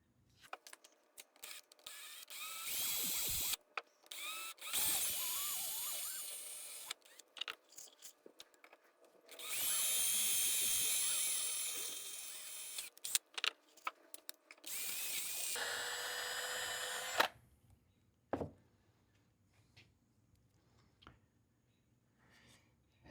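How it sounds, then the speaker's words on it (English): An electric drill grinds at a 45-degree angle through a metal transmission drum in long, loud runs with stops and starts, interspersed with clicks and rattling. "Now I'm going to drill at about a 45-degree angle with my drill right through that hole"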